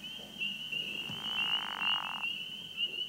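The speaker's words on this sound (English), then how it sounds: "The pickerel frog's call sounds like a very short snore." A pickerel frog, close relative of the northern leopard frog, gives one short snore-like croak of about a second, quiet and brief over a steady high insect or ambient hum.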